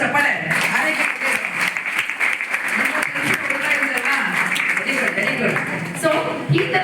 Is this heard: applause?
yes